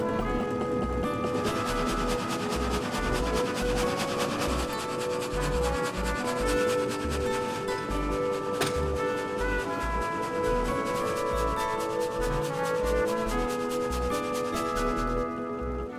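Large frame saw (Vollgatter) cutting big logs in a sawmill, with a loud rhythmic rasping of the blades and heavy regular thumps that keep an even mechanical beat throughout.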